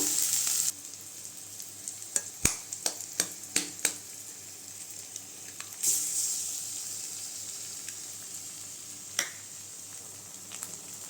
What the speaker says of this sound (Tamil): தக்காளி நல்லா வதங்கிடுச்சுங்க இப்போ முட்டையை சேர்த்துக்கலாம்